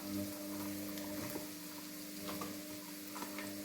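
Onion frying with ginger and garlic in a pan for pasta gives a steady, soft sizzle with faint occasional ticks and stirring scrapes, close by and with no voices.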